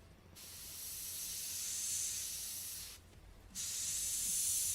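An airbrush sprays camouflage paint onto a 1/35 scale LAV-25 model, producing close, soft hissing bursts: one long spray, a brief pause, then a second spray, with no talking.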